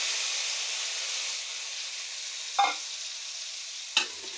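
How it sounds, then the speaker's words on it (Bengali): Spice paste of chili powder, turmeric, ginger and cumin fries in hot oil with a steady close hiss. Two brief stirring scrapes break through without any talk. "তো আমি এখন মশলাটাকে ভালো করে ভাজা ভাজা করে নেব।"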